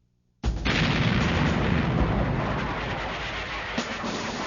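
Battleship guns shelling the Japanese-held island of Iwo Jima: a sudden loud boom opens into a sustained, dense roar of heavy naval gunfire and rumbling that continues without pause.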